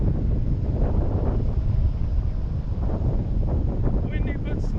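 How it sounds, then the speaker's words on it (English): Wind buffets the microphone outdoors in a steady, close, low roar with gusty swells, and a faint voice is mixed in beneath it. "Windy, but smooth."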